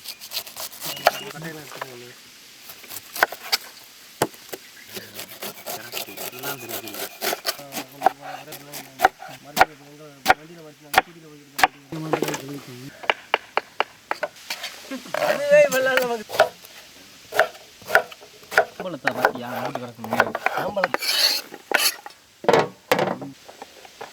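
A knife taps sharply and repeatedly on a cutting board, chopping mango in irregular strokes while people talk over it.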